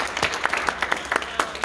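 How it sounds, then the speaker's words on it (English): Short round of applause from a gathered audience at a military farewell event, distinct individual claps overlapping in a quick, lively patter close by. "we'll give her a round of applause"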